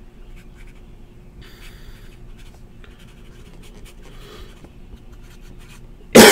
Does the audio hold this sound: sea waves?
no